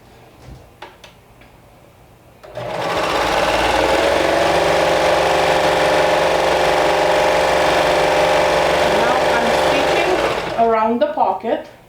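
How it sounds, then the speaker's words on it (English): Serger sewing machine stitching fabric for a garment, a loud steady rapid mechanical whir running for about eight seconds after a few soft clicks, then stopping with brief talking at the end. "So I'm back at the serger."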